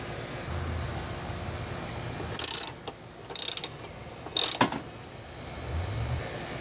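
A ratchet wrench tightens the battery hold-down on a 2007 Toyota FJ Cruiser, producing three short, loud bursts of rapid clicking at close range with brief pauses between them and no talking.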